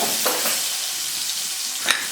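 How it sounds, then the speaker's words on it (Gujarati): Tomatoes with a pinch of asafoetida, salt and red chilli powder sauté in hot oil for stuffed brinjal curry, giving a steady close sizzle with soft stirring scrapes and one sharper clatter near the end. "આવી રીતે તેલમાં સાંતળી લઈશું"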